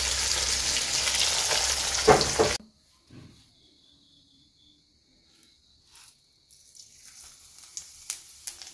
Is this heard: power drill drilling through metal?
no